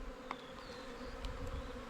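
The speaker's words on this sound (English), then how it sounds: "There are some going in and out of the hive." Honeybees buzz as they fly in and out of a hive, a continuous close droning hum with a few brief individual fly-bys passing over it.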